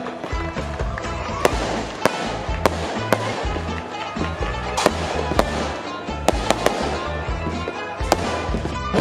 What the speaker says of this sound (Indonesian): Dentuman kembang api menjulang ke angkasa menandakan sudah diresmikannya Masjid Dafa Sofia